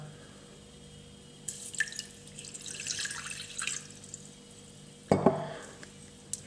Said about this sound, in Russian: Добавляем 250 мл воды.